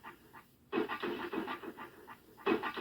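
Simple synth delay with feedback from a Percussa SSP processor fed by a Make Noise 0-Coast, short pulsing repeats echoing in quick succession, alone and fairly quiet.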